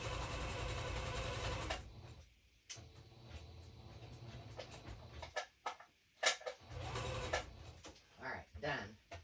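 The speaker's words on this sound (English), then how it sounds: "It's going to be the fastest sewing ever." A sewing machine stitches fabric in a fast continuous whirring run, then stops, followed by scattered clicks, handling noises and short bursts of stitching.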